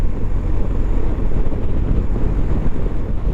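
Strong wind buffets the microphone on the Isle of Skye, a loud, steady low roar with gusting rumble throughout and no voices.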